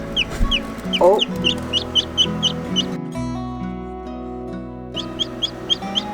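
Freshly hatching Silkie Bantam chicks in a warm incubator, with repeated shrill peeps in quick bursts close by over a low hum and some lower clucking; a voice briefly exclaims.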